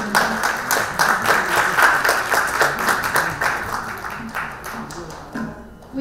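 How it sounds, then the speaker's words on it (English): An audience applauds at the Asha Jyothi USA Foundation fundraising event, dense clapping that stays fairly loud before thinning and fading toward the end. "Can we please give a round of applause to Sita Aunty?"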